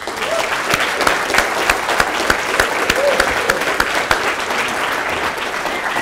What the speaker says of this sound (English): please give a warm welcome and applause to Anthony Dream